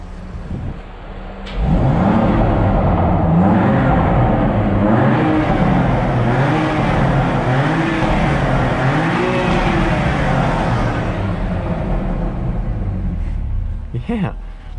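A 2019 BMW M2 Competition engine idles loudly then revs in repeated surges, Sport Plus exhaust giving a deep rumble rising and falling close by.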